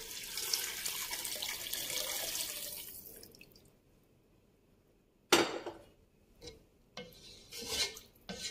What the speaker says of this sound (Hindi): और ये दो गिलास मेरे पास पानी है।